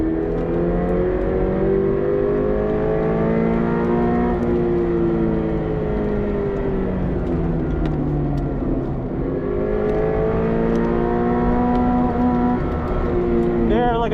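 A Subaru BRZ on a race track revs hard toward redline, its engine note climbing and falling in long sweeps through gear changes, loud and steady throughout.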